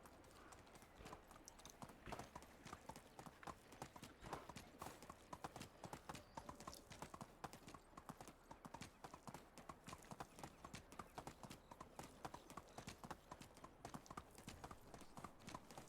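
A donkey's hooves clip-clop in an even, continuous walking rhythm, likely in a video game, the steps staying moderately quiet and close throughout with no talk over them.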